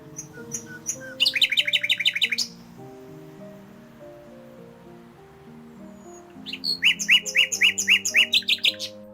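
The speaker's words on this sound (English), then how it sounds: "Nightingales sing during the day and night," A common nightingale sings in two bursts of rapid, repeated chirping notes with a pause between, heard close and clear over soft background music.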